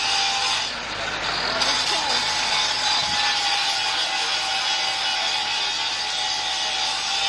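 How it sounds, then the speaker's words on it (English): Welders finish repairing a burst water pipe inside an underground chamber; a loud, steady broadband rushing and grinding noise fills the whole stretch without letting up. "the noise that you're hearing from the background inside this chamber are the welders now"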